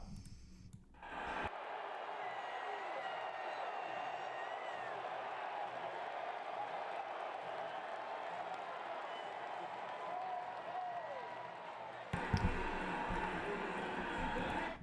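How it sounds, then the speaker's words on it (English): A packed Nebraska football stadium crowd roars and cheers in a dense, sustained wash of noise for about ten seconds, with a brief spoken voice at the start and end. "And here's the crowd."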